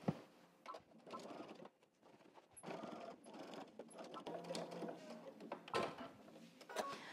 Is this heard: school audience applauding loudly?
no